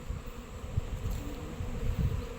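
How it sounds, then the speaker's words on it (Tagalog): Dense swarm of bees buzzing continuously, a steady droning hum from many insects close by, with no one speaking. "Ang dami pong bubuyog."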